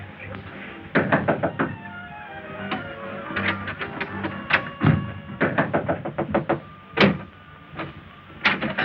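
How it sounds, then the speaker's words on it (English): Repeated knocking at a door, a series of loud raps in bursts with pauses between them, close and with no speech over it. "There's someone at the door."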